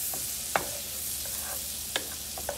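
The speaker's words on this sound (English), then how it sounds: "I'm just going to mix this up. I want it melted." Ingredients being stirred and melted down in a frying pan while preparing tilapia with peppers, a steady sizzle running underneath with a few sharp scrapes of the utensil against the pan, close by and with no talking.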